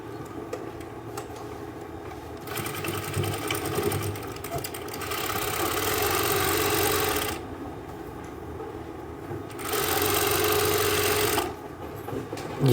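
A sewing machine runs in two long bursts while stitching a suit sleeve, steady motor hum and rapid needle chatter, close and moderately loud, stopping between runs with softer handling noise.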